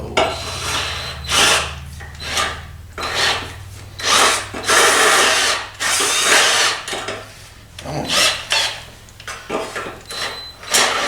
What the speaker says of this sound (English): We're just going to try to drill these square holes into round holes